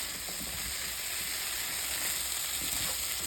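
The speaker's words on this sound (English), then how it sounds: "I added the broth, a quarter cup of broth, and I stirred it in." Curry in a pot with a quarter cup of broth stirred in, giving a steady close sizzle and hiss with faint stirring movement and no talking.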